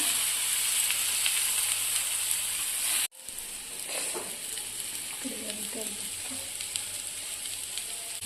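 Chopped onion sautéing in a pan as the start of a tomato pasta sauce, a steady broad sizzle that cuts off abruptly around three seconds in, then resumes softer with light stirring scrapes.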